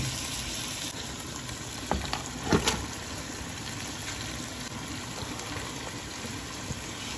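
Broiler chicken frying in a pan, a steady low sizzle with occasional soft stirring clinks and no talking.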